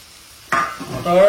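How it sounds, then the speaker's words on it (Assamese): Green peas tipped into a pan to fry for matar paneer: near silence, then a sudden loud burst of sizzling and splattering that swells again moments later with a bright ringing edge. "ইয়াৰ লগে লগে আমি এতিয়া দি দিম এই মটৰ"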